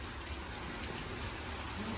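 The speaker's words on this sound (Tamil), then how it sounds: "நல்ல மழை" Steady heavy rain falling outdoors, a dense unbroken hiss filling the whole moment at an even level, with no talk heard.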